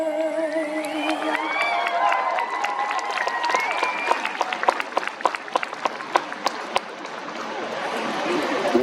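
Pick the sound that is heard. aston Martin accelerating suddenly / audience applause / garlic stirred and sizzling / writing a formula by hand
audience applause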